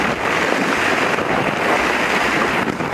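Dense plastic balls in a ball pit are churned hard and nonstop, giving a loud, even rushing clatter for the whole stretch, with no voices.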